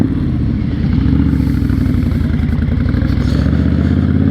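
A 2006 Honda VTX1300 motorcycle cruising on the road, its engine a steady, loud low-pitched rumble with a rapid even firing beat that carries on without a break, and no voices over it.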